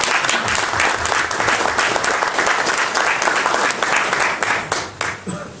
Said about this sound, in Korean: 오늘 이 자리에 정말 고생하신 우리 나주영 상임 부회장님께 우리 크게 감사의 박수를 한번 부탁드리겠습니다.